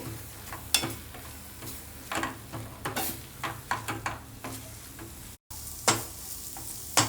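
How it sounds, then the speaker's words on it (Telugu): Sliced onions with chilli powder and gram flour fry in a pan, giving a soft continuous sizzle. Sharp scraping spoon strokes stir them at irregular intervals, close up, with no talk. "పచ్చివాసన పోయేదాకా వేయించుకుందాం ముందర"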